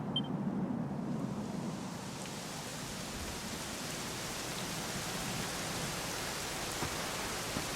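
Steady rain pours down continuously in Dragon Quest XI, a dense wash of drops hitting surfaces, even and fairly loud throughout with no voices.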